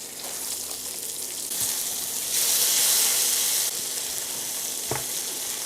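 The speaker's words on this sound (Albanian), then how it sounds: "Ashtu do t'i lejmë të skuqen" Food frying in a pan gives a steady, close sizzling hiss that swells louder for about a second midway, then settles back, with a short metallic knock near the end and no voices.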